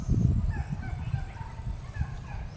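Ducks quacking and honking in a lively group, close and overlapping, with a noisy outdoor background.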